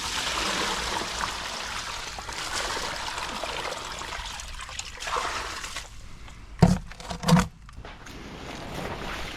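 Steady rushing water flows throughout at moderate level, broken near the end by a couple of brief louder knocks or splashes.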